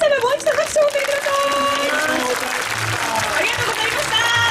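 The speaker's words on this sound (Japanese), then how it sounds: "皆様もう一度拍手を送りください" An audience claps at the Matsushiro Sanada Jukkokumaru festival in Japan, a sustained round of applause mixed with voices and a loud announcer over the crowd.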